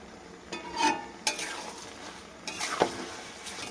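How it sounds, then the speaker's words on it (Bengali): Coconut and sugar are stirred in a pan for sandesh, giving a few faint scraping strokes of a spoon against the pan over a quiet background. "এবার এটাকে আমি নাড়তে থাকবো। চিনিটা গলবে, গলে নারকেলটা যতক্ষণ না পাক আসবে ততক্ষণ নাড়তে থাকবে।"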